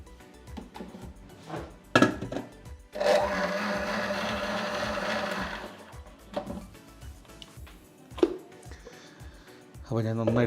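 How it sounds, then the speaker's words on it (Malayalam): A kitchen blender whirs while blending jamun fruit juice with lemon, a steady motor roar running for about three seconds amid clatter and background sounds, with speech around it. "ഞാൻ നന്നായിട്ടൊന്ന് ബ്ലെൻഡ് ചെയ്തെടുക്കുവാണേ"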